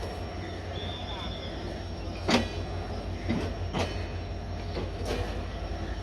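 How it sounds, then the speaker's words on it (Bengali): The Jehanabad Express train departs Noapara station, rumbling steadily with rhythmic clacks of wheels over rail joints and a brief high squeal, heard from on board. "ট্রেনটা এখন ছেড়ে চলে যাচ্ছে নোয়াপাড়া স্টেশন"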